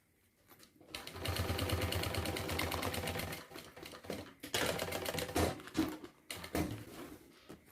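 A sewing machine stitching bias tape onto a beach bag runs in close bursts of rapid needle clatter, with short pauses between runs and no voices.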